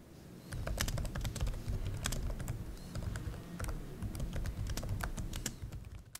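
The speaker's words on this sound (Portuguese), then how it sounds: "eu já estava até fazendo aqui, ó, o teste de digitação, vocês vão poder ouvir o barulho" Steady, rapid typing on a Samsung Galaxy Book4 Pro laptop keyboard, dense clicking keystrokes close up with a soft low thud under them, continuous throughout and no talking.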